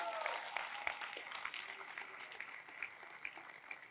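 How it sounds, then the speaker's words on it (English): Audience applause rising from a crowd at a talk, a steady wash of many hands clapping at moderate distance, sustained throughout without breaks. "You clap that up."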